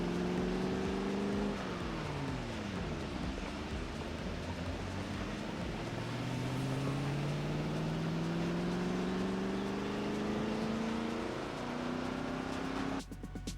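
A Mustang's engine in Project Zomboid, a steady droning rumble with rising and falling revs across shifting gears, loud and continuous, ending in a brief clatter.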